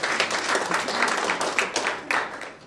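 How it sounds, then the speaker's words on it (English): Audience applause at a talk on inclusive democracy and women's issues, a brief burst of steady clapping from a crowd, fairly even in loudness throughout. "So I think we can give our world a round of applause"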